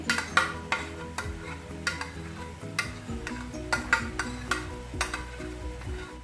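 Spoon stirring tomato puree into an aloo gosht curry in a pot, with repeated scraping strokes at a steady rhythm and a soft sizzle underneath, close and clear with no talking.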